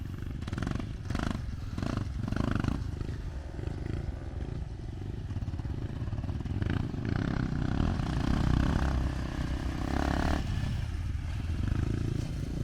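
Dirt bike engine, a Honda CRF300L or Kawasaki KLX300R, running near with a rough, throaty rumble and uneven throttle surges, plus scattered clatter and scraping over a continuous loud drone.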